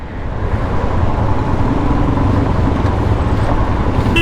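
A bus passing on a narrow Himalayan mountain road beside an overhanging cliff, a steady loud engine and road rumble holding close throughout with no talk.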